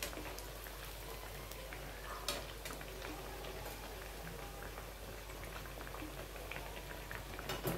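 Sweet corn vadas bubble and crackle in hot oil, a steady close, fine fizzing hiss with scattered tiny pops, occasionally louder as the fritters are turned.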